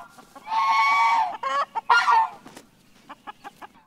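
Breeding chickens of parent stock squawk loudly and cluck close by after being put back in their pen, with a long raucous call, a second squawk and a trail of softer clucks.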